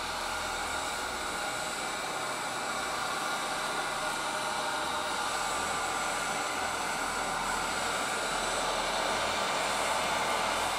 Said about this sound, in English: Heat gun. And now we're just gonna start shrinking this plastic.